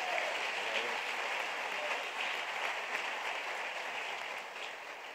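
A church congregation applauds steadily at a Christmas Eve Saturday worship service, a dense, even wash of many hands clapping that holds at moderate loudness throughout with no voices standing out.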